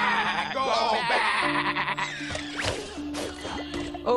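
Sheep in the game Skylanders Imaginators bleat loudly in overlapping, wavering cries over layered game music and effects.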